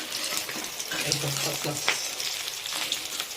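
Pangas fish pieces fry in oil over a gas flame turned low, a close, continuous crackling sizzle with occasional stirring sounds and brief spits, and no voice over it.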